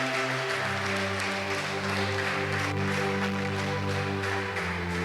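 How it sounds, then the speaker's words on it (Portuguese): A church congregation applauding during a Portuguese-language doctrine service, with steady, dense clapping running throughout, blended with sustained organ or keyboard chords beneath it. "Aplauda ele."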